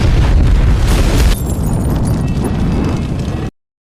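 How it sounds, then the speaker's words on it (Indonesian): Car exploding in a film scene: a loud, deep blast opens, then a crackling, rumbling roar continues for a few seconds before cutting off abruptly. "Saat mereka berhasil keluar mobil, mobil tersebut pun langsung meledak."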